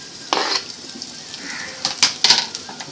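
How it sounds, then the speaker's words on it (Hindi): Finely chopped garlic hits hot oil with cumin seeds and sizzles loudly and close up, with short bursts of crackling and spatter as it is stirred in. No one speaks. "मैंने 6 गार्लिक्स लिए थे, जिसे मैंने फाइनली चॉप कर दिया है। इसे ऐड करेंगे"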